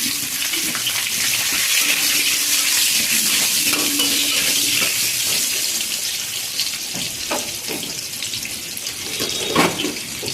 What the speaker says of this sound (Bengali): এই যে আলু দিয়ে দিচ্ছি আলুটা একটু লাল লাল করে ভেজে নেবো